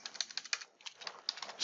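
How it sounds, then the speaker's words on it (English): Rapid, uneven keyboard typing, close and crisp, with a brief pause midway before the clicking resumes. "speaking and typing at the same time."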